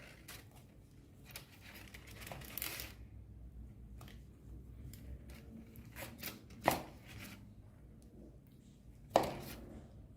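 A knife cutting through a rich Christmas cake on a plate, a few scattered scrapes and soft crunchy cuts with two sharper knocks, quiet and close with near-silent pauses between.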